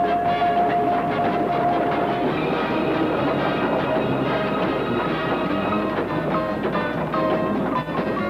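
A train rumbles steadily along the tracks, a loud, continuous mechanical roar with faint clacking, close by throughout.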